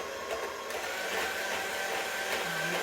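Cream cheese fruit dip being mixed with an electric mixer, giving a steady whirring motor drone with a faint rattle, close and continuous, with no voices.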